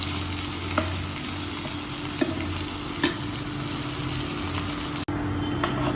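Potato and okra fry in a pan with a steady, close sizzle, broken by a few faint stirring clicks and one abrupt cut near the end.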